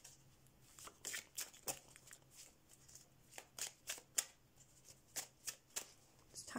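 Tarot cards are handled and shuffled from a deck in a quiet room, giving a string of soft, crisp riffling snaps in irregular bursts, close and fairly faint.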